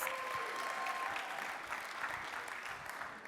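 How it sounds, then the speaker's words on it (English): Gala audience applauding donors at a fundraising event, a steady wash of many hands clapping at moderate distance, fairly even throughout. "Come on, give them a round of applause."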